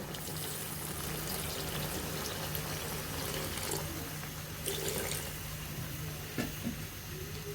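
Water poured into a tomato and sweet potato chutney in a cooking pan, a steady soft splashing wash that runs continuously over a low hum, with a couple of brief clinks near the end.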